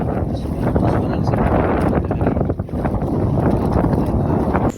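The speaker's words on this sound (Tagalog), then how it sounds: "Ug diring dapita medyo ni kusog ang hangin." Strong wind at sea buffets a fishing boat, a loud, continuous rushing and blustering that stays close to the microphone throughout.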